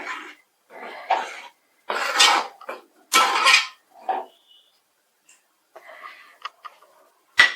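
Beef curry in Kerala style, with garam masala and pepper powder, being stirred in a pot gives intermittent scraping, clattering bursts separated by short pauses, close and moderately loud.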